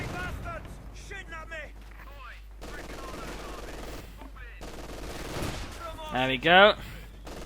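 Gunfire crackles through a Company of Heroes 2 match, a Vickers machine gun among the weapons, with bursts scattered under steady commentary and a louder crack of shots near the end.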